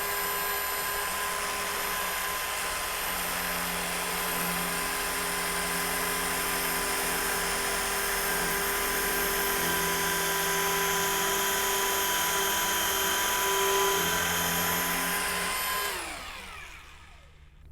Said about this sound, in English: we'll start our drill, and we'll drill a pocket hole